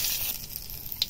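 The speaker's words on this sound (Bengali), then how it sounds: "5 ফোড়ন, একটা তেজপাতা 2 টুকরো করে দিচ্ছি, শুকনো লঙ্কা" Panch phoron, a torn bay leaf and dried red chilli crackle in hot oil, a brief bright sizzle with small pops and one sharper spit at the end, heard close with no voices.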